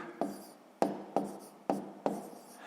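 Hand-written numbers scratched onto paper with a pen during a sixth-grade multiplication exercise: five short, quiet strokes land at an even rhythm, each a crisp tap that fades, close by with no talking.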